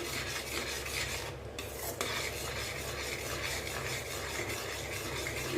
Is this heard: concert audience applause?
no